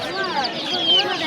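Chickens cluck and chatter at a busy poultry market, a dense layered clucking chorus close by, with people talking over the birds throughout.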